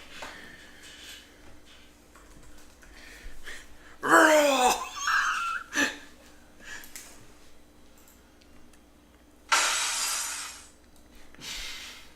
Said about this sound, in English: Glass shattering.